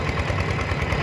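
A small farm tractor engine runs at a steady idle-like drone with a faint knocking pulse, close and continuous, with no voices over it.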